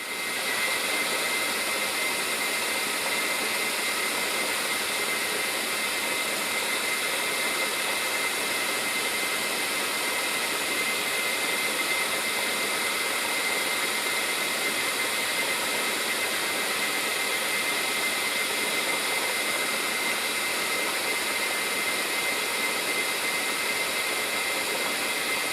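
A metal lathe runs continuously while turning down a rear view mirror thread cap, a steady whirring hiss with no pauses or speech.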